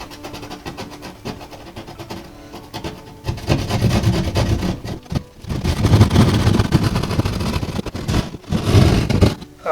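Saw cutting an opening in a wall for an electrical outlet box, a close rasping scrape in uneven strokes that grows louder partway through.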